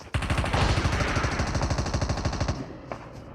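Rapid automatic gunfire from Call of Duty Mobile rattles loud and continuous for a couple of seconds, then cuts off, leaving a brief faint tail.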